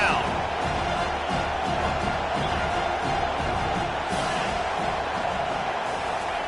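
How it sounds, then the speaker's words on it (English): Home crowd noise in a college football video game, South Carolina versus Miami, roars continuously as the defense faces third down, a loud dense wash of cheering with speech running over it. "Here comes this home crowd as the defense tries to get off the field on third down."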